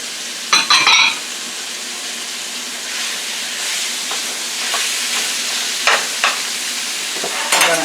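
Steak sizzling and frying in a pan alongside peppers and onions, a steady close hiss with a few sharp bursts of spatter and scraping.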